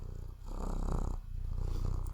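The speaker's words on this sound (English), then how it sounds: "he's still purring. You can probably hear it." A male domestic cat purring at bedtime, a close, steady low rumble pulsing continuously through the whole stretch with no talk over it.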